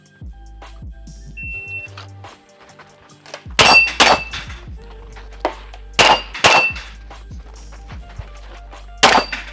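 Shots from an AR rifle strike a rack of steel plates, each hit a bright metallic clang that rings out, arriving in a few spaced clusters of two or three, loud and close, with no talking.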